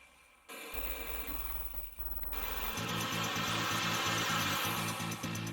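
A power drill boring magnet holes into a homemade face shell, starting with a motor whir that cuts out, then a longer, louder grinding spin with rhythmic pulsing as the bit bites the material.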